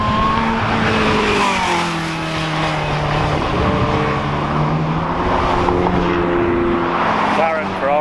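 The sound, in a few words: supercharged Ariel Atom car doing a hot lap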